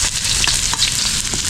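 Sliced onion sizzling and frying in a hot pan alongside garlic and ginger, a steady close, loud crackling hiss with bursts of stirring and no voices.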